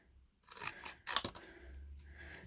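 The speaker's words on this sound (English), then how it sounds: "It can very easily be cut with scissors." Scissors slowly snipping through a thin Little Debbie cardboard carton, giving a few crisp close cuts with a sharp crunchy burst in the middle, then a low rustle of handling.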